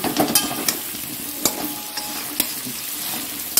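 Potatoes fry in hot oil in a pan, a close, steady sizzle broken by several sharp scrapes and clacks as they are turned.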